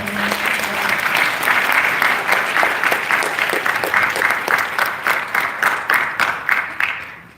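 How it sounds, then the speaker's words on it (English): An audience applauds panel participants at the close of a Q&A session, full clapping that grows into distinct rhythmic claps before fading out at the end. "Let's give a round of applause to all of them."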